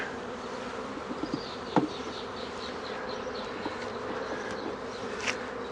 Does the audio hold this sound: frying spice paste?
no